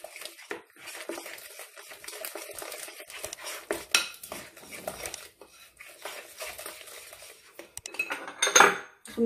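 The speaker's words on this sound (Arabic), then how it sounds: "نحرك مزيان هاد الحليب والبيض" A utensil stirs milk and eggs in a bowl, clinking and scraping against the sides in steady, uneven strokes, close and moderately quiet, with brief pauses.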